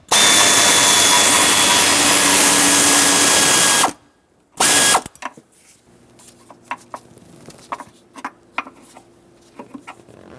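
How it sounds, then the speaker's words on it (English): A power tool spins an 8mm socket to unbolt a bracket on a 1999-2016 Ford E-350 with a 5.4L V8, a loud continuous whir for about four seconds, then a brief burst followed by scattered clicks and clinks of metal. "Use an 8mm to unbolt this bracket."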